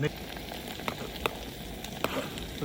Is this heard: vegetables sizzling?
yes